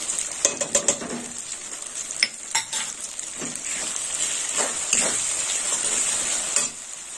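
Spices including coriander powder fry and sizzle in a pan for Kashmiri chicken, with a steady loud hiss and scraping stirs of a spoon against the metal, close up and with no one speaking.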